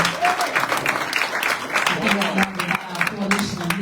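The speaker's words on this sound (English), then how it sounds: "give Dr. Chapman another round of applause" Audience at a town hall meeting on human and civil rights gives a steady round of applause lasting a few seconds, with scattered voices and cheers mixed into the clapping.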